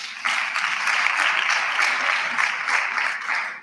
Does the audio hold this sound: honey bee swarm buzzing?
no